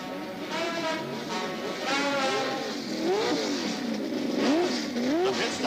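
A historic race car's engine wails continuously, its pitch rising and falling as the car slows and pulls into the pit during a race. The sound is moderately loud and steady, with no voices.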